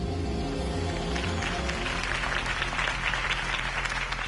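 Steady, dense applause from a crowd after a campaign speech by Harvey Dent in the Batman Telltale video game, a continuous wash of clapping over a low background hum, unbroken from start to finish.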